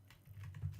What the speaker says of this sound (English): you can probably hear my keyboard clicking as I try to go through and look at the NBA champions in the past